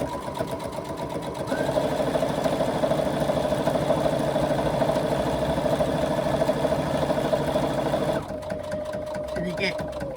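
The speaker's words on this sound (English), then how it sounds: "Place right sides together of the two cover pieces, and we are going to stitch down the long side" A sewing machine stitches two fabric cover pieces of a handbag together along the long side in a steady, close, motorised whirr lasting several seconds, pausing briefly near the end. A voice speaks softly over it.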